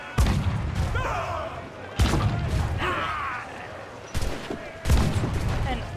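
An auto cannon in the pirate-era game Assassin's Creed IV: Black Flag fires in four loud, separate blasts, each a crashing boom with a rumbling tail, while someone speaks between the shots.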